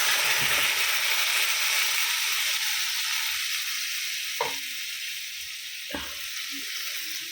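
Water poured into a pan of frying vegetables for a paneer curry sets off a loud, close, hissing sizzle. It slowly settles, with a couple of sharp utensil taps against the pan.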